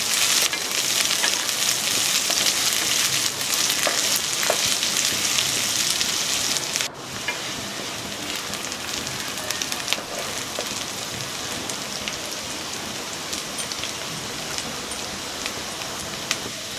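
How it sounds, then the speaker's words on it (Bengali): Chopped onion and green chillies fry in hot oil with a loud, steady sizzling hiss that briefly drops around the middle, then carries on slightly softer with occasional faint clicks. "পেঁয়াজ আর কাঁচা লঙ্কাটা খুব ভালো করে আমি ভেজে নেব।"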